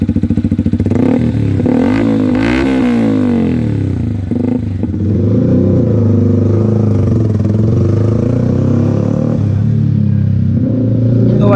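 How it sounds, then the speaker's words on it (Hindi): A Yamaha R15 V3 sport motorcycle with an aftermarket exhaust revs loudly and close by, its throaty exhaust rising and falling through several throttle blips before settling into a steady rumbling idle. "तो भाई ये कुछ ऐसा साउंड आ रहा है इस बाइक का"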